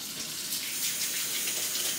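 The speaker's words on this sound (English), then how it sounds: "I'm going to add some warm water" Warm water poured into a bowl, a steady splashing gush heard close and alone for a couple of seconds.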